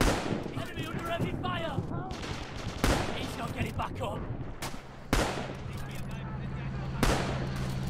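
Gunfire in a WW2 first-person shooter video game: sharp shots ring out at intervals, several loud bursts with echoing tails, while players talk over the battle.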